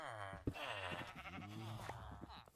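Sheep bleating in the Minecraft video game, several wavering game bleats in quick succession, fairly loud and close with little else behind them.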